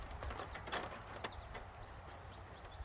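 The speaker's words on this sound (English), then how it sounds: "Love hearing all the birds singing out here." Birds singing outdoors on a rural Canadian homestead on a cold, dreary spring day: faint, high chirping and warbling phrases over soft background noise and a few low thumps, in the latter half.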